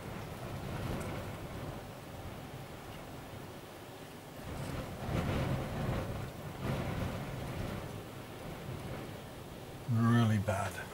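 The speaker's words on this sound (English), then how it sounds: "Listen, there's another storm here." Low rumbling storm noise with wind and rain washes through steadily, swelling in places, while a voice speaks briefly near the end.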